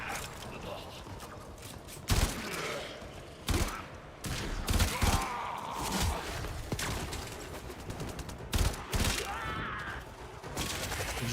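Rapid bursts of automatic gunfire from the video game Warframe, with sharp repeated shots and booming impacts clustered throughout, loud and dense over game effects, with a voice talking intermittently underneath.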